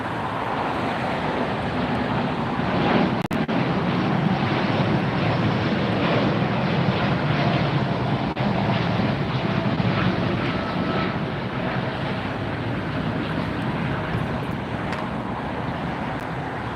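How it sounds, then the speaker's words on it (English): A LOT Airlines widebody jet takes off at LAX, its engines producing a sustained broad roar heard from a distance outdoors, steady and fairly loud throughout, with some wind buffeting the microphone. "LOT Airlines taking off for Poland."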